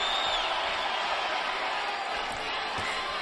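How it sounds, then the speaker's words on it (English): A boxing arena crowd roars steadily as round six opens in a Crawford versus Molina fight, a dense, continuous wash of cheering and shouts that holds at a loud, even level throughout. "Crowd gets excited here at the beginning of round number 6 as Crawford comes out"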